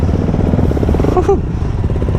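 A Yamaha MT street motorcycle on fat street tires, ridden like a supermoto through the city, runs with a loud, close, steady engine rumble, and a brief voice is heard over it.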